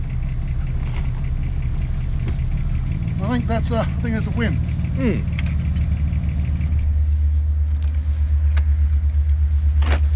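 A Ford EF Fairmont engine idles after sitting for ten years, a loud steady low rumble that grows heavier and more pulsing near the end, with keys jangling and a person speaking briefly over it.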